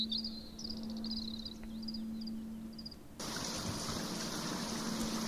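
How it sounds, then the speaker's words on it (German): In the video game Hinterm Horizont, rain begins to fall: soft insect-like chirps over a faint hum suddenly give way to a steady, dense, full hiss of rainfall that continues to the end. "Wie gut, dass es gerade zu regnen beginnt"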